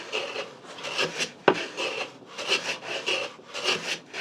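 Rhythmic rasping of a file or knife shaving material off a sliding keyhole lever cap, repeated back-and-forth strokes close up, with a sharp knock partway through.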